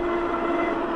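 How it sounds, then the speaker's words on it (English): Mountain bike brakes on a gravel-tired MTB give off a sustained, piercing metallic squeal, steady and fairly loud for about a second with no voices. "them brakes sound nice and awful"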